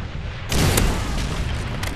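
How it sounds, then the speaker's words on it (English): A Predator missile strike in Modern Warfare 3 lands as a sudden loud boom about half a second in, then a rumbling explosion tail that fades slowly, with no voices. "a Predator missile inbound."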